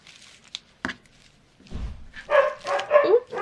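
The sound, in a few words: dogs barking after a door was shut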